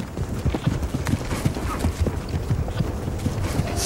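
A ridden horse's hooves clip-clop in a steady rapid rhythm, loud and close, with some rustling movement over the hoofbeats and no clear talking.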